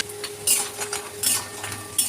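Lentil dumplings (bori) dropped into hot oil and frying, with soft bursts of sizzle recurring every half second or so and light clinks of a utensil against the pan.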